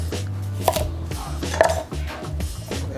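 A knife trims the tips off leeks and carrots on a board in a few sharp, close chopping knocks over a low background hum.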